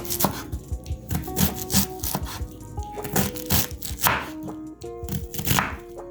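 A knife chops through onions on a cutting board in a kitchen, a quick irregular series of crisp taps and thuds close up, with occasional brief clinks between strokes.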